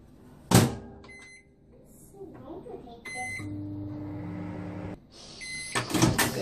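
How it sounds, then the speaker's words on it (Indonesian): Microwave oven heating butter with milk: a door thump, beeps from the keypad, then a steady hum while it runs, ending with another clunk and rattle, with people talking around it. "butternya ini akan saya larutkan di microwave dengan susu"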